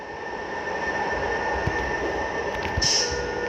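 A steady rumbling train passes in a bus-driving video game, with a constant mechanical drone, a few faint clanks, and a brief high whine near the end.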